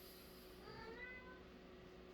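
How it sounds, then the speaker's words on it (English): A house cat meows once, faintly, around the middle of the moment. A steady low room hum runs underneath, and no one talks. "The cat's making noise."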